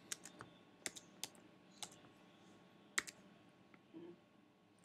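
Sparse keystrokes on a computer keyboard, about a dozen separate clicks at an irregular pace, close but quiet over a faint room hum.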